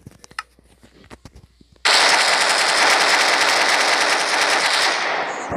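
Sustained automatic AK-47 fire from a Minecraft guns addon bursts in after a few quiet clicks and taps, then rattles on loudly and continuously for several seconds.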